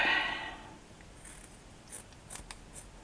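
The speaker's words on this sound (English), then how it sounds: "I just want to cut a shape" Scissors snip through leftover fabric scraps to cut out a shape for a ribbon flower, giving a few quiet, close crisp snips after an initial louder rustle of handling.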